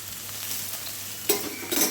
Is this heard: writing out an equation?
no